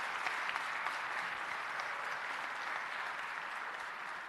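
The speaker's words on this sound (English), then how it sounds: "I do want a round of applause for everybody" Steady applause from a council meeting audience honoring city employees, a dense, even wash of many hands clapping that holds at a constant level for a few seconds with no talk over it.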